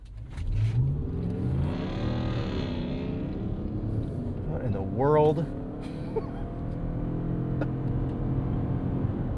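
A loud engine from a Stellantis vehicle in Sport mode revs hard and rumbles beside the car at a stop, sustained throughout with a brief rising whine, while a person speaks over it.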